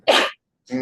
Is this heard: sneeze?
yes